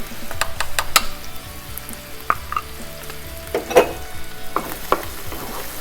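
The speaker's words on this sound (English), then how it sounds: "Gonna stir a little bit." Chopped red pepper and celery frying over medium-high heat in a pan for arroz a la valenciana, stirred with a spoon: a steady loud sizzle broken by scraping strokes and sharp clinks against the pan, no voices.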